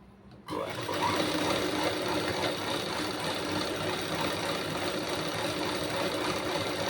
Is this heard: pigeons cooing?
no